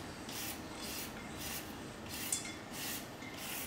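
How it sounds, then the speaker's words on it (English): Carrot being grated by hand for a pickle, soft rhythmic rasping strokes repeating roughly every half second, quiet and close with no talk. "grate some carrot"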